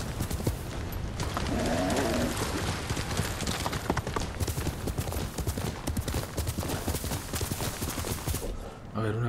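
A horse gallops in Ghost of Tsushima with steady clip-clop hoofbeats that run almost the whole time at a loud, close level, under a man's speech and game sounds.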